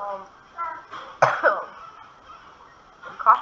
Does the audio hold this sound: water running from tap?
no